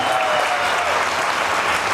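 Steady, dense applause from an audience at a digital awareness program event in Jamshedpur, loud and continuous throughout without pause.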